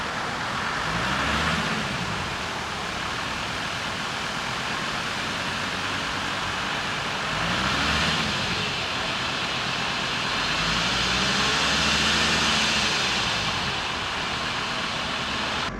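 A VW LT van cruising in fifth gear, a steady broadband road and engine roar heard from inside the cab that swells slightly in a few places, with no talking.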